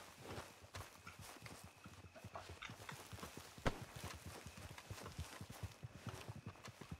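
Horse hooves clip-clop in steady rhythm in Red Dead Redemption (RedM) roleplay, a close, even walking gait with one sharper knock partway through and no speech.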